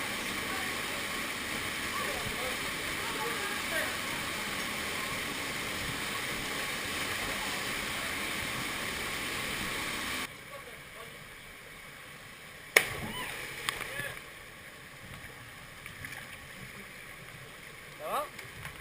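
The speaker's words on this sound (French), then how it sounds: "sous la cascade." Waterfall in the Corbières pouring steadily as loud broadband roar for about ten seconds, then dropping to a quieter rush of water with sharp splashes and knocks, speech faintly present.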